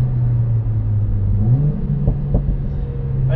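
Mercedes-AMG A45 S accelerating hard, a steady loud engine drone that shifts up in pitch partway through, with two short exhaust pops near the end.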